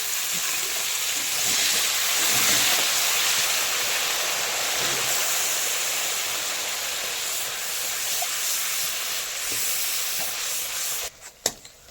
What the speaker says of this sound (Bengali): টমেটোটা দিয়ে দিচ্ছি, সঙ্গে একটু জল দেবো, একটুখানি আদা দিয়ে রাখা জল